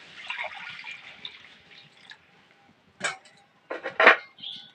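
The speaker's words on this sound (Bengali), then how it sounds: "কড়াইয়ের মধ্যে এক বাটি জল দিয়ে দেবো।" A bowl of water poured into a heated wok gives a soft hissing gush that fades within a couple of seconds, followed by a few sharp metallic clanks and taps of cookware in a quiet room.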